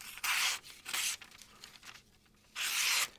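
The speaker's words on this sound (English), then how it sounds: "We'll go ahead and we'll check this edge and see what it's looking like. So we got a thin piece of magazine paper here." A Kansept knife edge slices through thin magazine paper in three crisp, rasping cuts, each about half a second long, close and fairly loud, with quieter handling noise between them and no talk.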